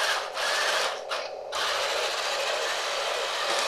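A remote control toy tank drives with a steady, buzzy mechanical whir of small motors and gears, close and continuous with brief dips near the start, no talking.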